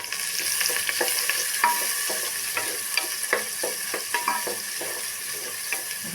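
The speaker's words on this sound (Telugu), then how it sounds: "ఇందులో కొంచెం మరిగాక ఇందులో ఉల్లిపాయలు వేద్దాం." Chopped onions frying and crackling in hot oil in a pan for a potato spinach curry, a steady close sizzle with scattered stirring scrapes and pops throughout, no voices.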